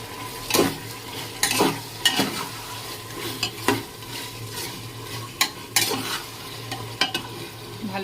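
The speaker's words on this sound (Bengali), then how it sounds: "এদিকে আমি চিকেনগুলো দিয়ে দিই, তাহলে একসাথে ভালোভাবে কষা হয়ে যাবে" Chicken fries in spice masala in a home kitchen while a spoon stirs and scrapes the pan in irregular strokes over a steady low sizzle, close and fairly quiet.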